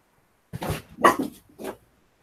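A dog barks three times in quick succession, close and fairly loud, with short pauses between the barks and near silence around them.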